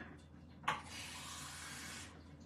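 Water pours from a tap into a cooking pot of goulash, a brief clatter followed by a steady hissing splash lasting about a second and a half before it cuts off, fairly close and quiet.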